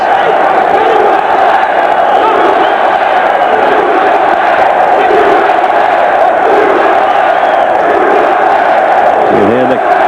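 A 1984 USA versus Cuba amateur boxing crowd roars in a loud, continuous swell of rhythmic chanting and cheering, the voices blending into a thick, sustained din throughout.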